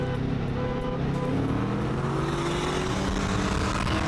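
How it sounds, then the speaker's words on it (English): A turbocharged car engine spools during a race against a Dodge SRT-4, a sustained loud roar with a rising whine building over about four seconds amid road noise. "Spooling sounds really good."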